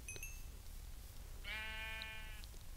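A single Minecraft sheep bleats once, a short wavering baa in the middle of quiet game ambience, with a faint chime just before it.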